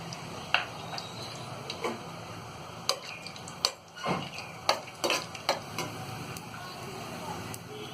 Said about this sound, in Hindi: इसी बचे हुए तेल में हम ये काजुओं को भी फ्राई कर